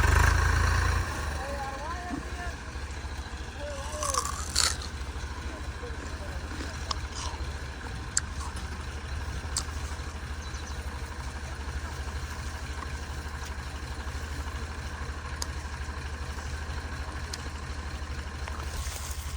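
A steady low engine drone runs throughout, a loaded tractor idling or working nearby at a sugarcane harvest, with faint voices and clanks early on.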